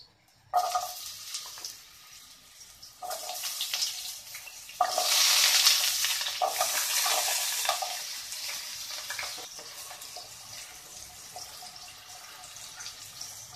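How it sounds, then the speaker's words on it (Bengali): Potatoes frying in hot white vegetable oil, a bright crackling sizzle that starts abruptly and swells louder midway, with occasional stirring clatter and no talking. "প্রথমেই আলুটাকে ভেজে নেব।"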